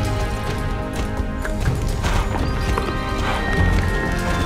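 Horse hooves clip-clopping steadily at a quick riding pace in the Star Stable video game, loud and continuous with occasional whinny-like calls layered over a busy game soundscape.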